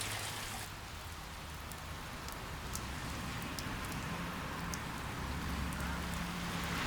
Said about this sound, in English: This is life, sitting in the rain.